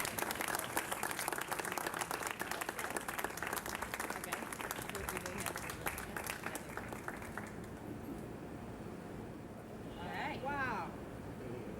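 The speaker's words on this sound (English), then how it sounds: "let's have a round of applause for these wonderful people" A crowd claps steadily for several seconds, then the applause fades out, leaving a quieter room where a voice briefly speaks.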